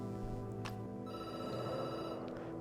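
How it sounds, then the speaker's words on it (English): A telephone rings in Night Call, a steady electronic trill repeating through the whole stretch at moderate volume, with a brief click partway through and no voices. "Phone rings"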